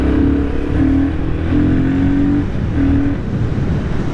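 A 2026 Royal Enfield Guerrilla 450 motorcycle engine revving up and down in low, throaty bursts, loud and close, with no one talking.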